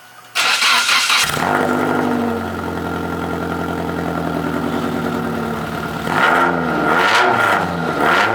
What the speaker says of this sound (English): I will show you guys how it sounds with no muffler compared to with this one and that one